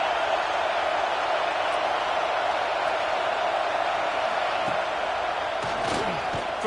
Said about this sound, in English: how nice is it to have the home crowd going absolutely bananas?